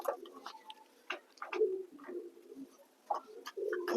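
Soft, close pigeon coos repeat in low murmuring phrases inside a pigeon loft, with brief pauses between calls in an otherwise quiet space.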